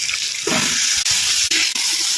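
Water poured into a hot pan of chilli chicken masala, a steady sizzling hiss and rushing splash with a few brief breaks, close and loud, no talk.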